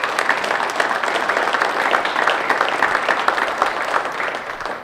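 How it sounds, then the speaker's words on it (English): Sustained applause from an indoor business symposium audience, many hands clapping at a steady, even level throughout. "please give them a round of applause"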